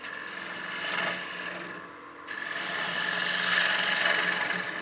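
A turning tool truing the face of a wood platter spinning on a lathe, a steady close scraping rasp that dips briefly midway and then resumes stronger.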